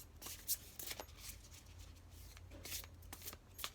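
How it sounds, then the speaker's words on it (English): Oracle cards are shuffled by hand in a quick run of soft riffling and slapping bursts, close and fairly quiet, with no voices over them. "so it's hard for me to shuffle the cards this way, so I do it this way."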